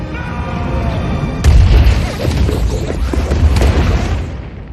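A sudden loud boom from an explosion scene in the Ant-Man and the Wasp film, bursting in after a quieter stretch and rolling on as a heavy rumble with crackling debris, followed by a second swell.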